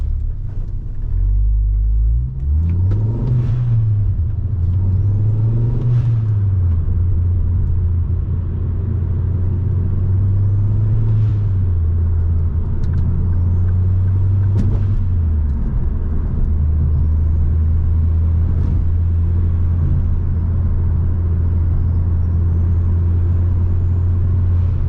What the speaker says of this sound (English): That spooling sounds like a jet.